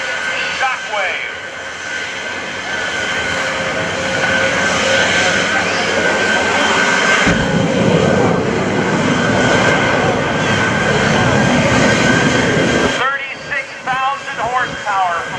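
A Shockwave jet truck's Pratt & Whitney J34 jet engine roars loudly and steadily at close range, swelling in the middle and cutting back near the end.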